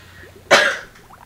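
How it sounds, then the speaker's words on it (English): A single sharp cough bursts out close by and trails off over about half a second against a quiet background. "Coughing."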